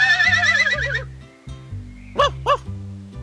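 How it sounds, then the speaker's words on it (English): A horse whinnies with a shaky, wavering neigh, followed by two short snorting calls, all over a bouncy musical backing. "Who can neigh like that?"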